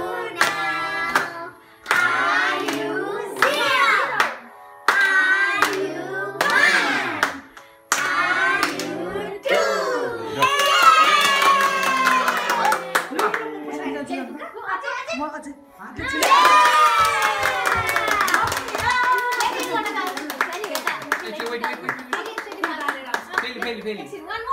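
Children's voices sing and talk while sharp hand claps come in bursts, with the clapping strongest in the second half.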